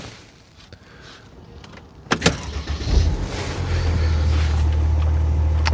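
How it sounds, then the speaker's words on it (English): A couple of clicks and a brief whirr, then a Mercedes engine cranks and catches, settling into a steady low idle rumble. "So basically we start the car"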